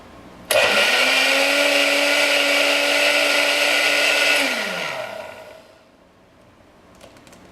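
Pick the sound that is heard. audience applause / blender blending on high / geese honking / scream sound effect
blender blending on high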